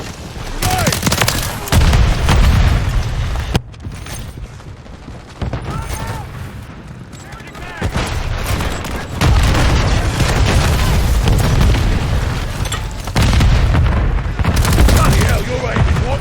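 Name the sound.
grenade explosions and gunfire in video game Call of Duty MW3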